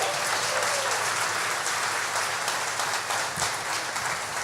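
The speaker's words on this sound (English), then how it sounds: "Please give them another round of applause." Audience applause at a Clayton Chamber of Commerce community awards event in 2019, a continuous, evenly dense round of clapping from a large crowd heard at moderate distance, without talking over it.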